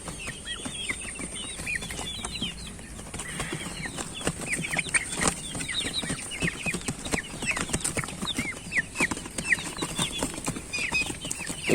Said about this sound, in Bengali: এই যে নিচে আমাদের টাইগার মুরগিগুলা রাখছি আমরা